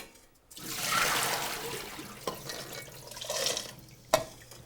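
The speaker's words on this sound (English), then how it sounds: "So I'm just going to drain the beans." Soaked beans in a kitchen are drained, the water rushing and splashing steadily for a few seconds, with a couple of sharp knocks and clatters near the end.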